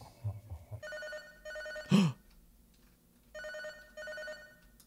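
A telephone rings in the video game Catastrophe Crow 64: two pairs of electronic ring bursts with a gap between them, fairly faint, broken by a brief louder noise in between.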